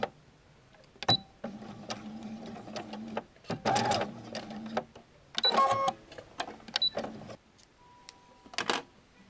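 A domestic sewing machine stitching bias binding with contrasting thread, running in several short bursts of rapid whirring separated by quiet pauses and small clicks, close by.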